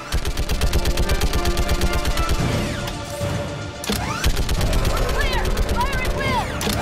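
Rapid gunfire from a Mass Effect 3 firefight on Rannoch, a steady rattling burst of shots running almost continuously, with brief pauses, under loud game effects and a speaking voice.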